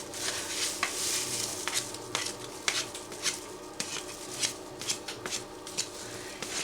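A spoon scrapes potato and carrot cake mixture out of a bowl in a string of close, gritty scrapes and taps in an uneven rhythm, soft and alone.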